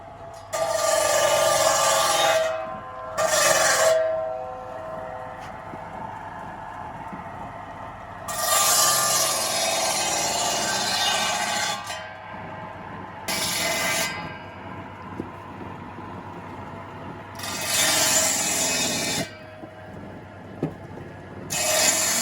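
Dry firewood being sawn by hand into short stove-length pieces for a small iron stove, with several long rasping bursts of wood sawing separated by brief pauses, close and fairly loud.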